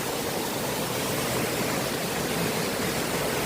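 Waterfall in Meghalaya, a steady, dense roar of falling water heard close up and alone, unchanging throughout.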